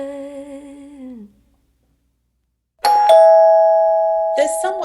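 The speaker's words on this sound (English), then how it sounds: "There's someone at the door. Ding dong." A doorbell chimes loudly with a bright ding-dong, its tones ringing on after a short silence that follows a voice at the start.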